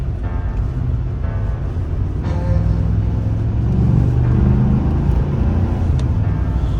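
Engine of a 2014 Ford F-150 Raptor pickup under manually selected gear shifts, a steady deep rumble heard from inside the cab that swells slightly as it pulls, loud and constant with no voices over it.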